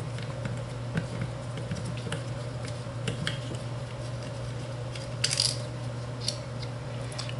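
A 2.5 mm Allen key turns screws out of a Kel-Tec SUB-2000 carbine. Small metallic clicks and ticks sound sparsely over a steady low hum, with a brief brighter rattle near the end.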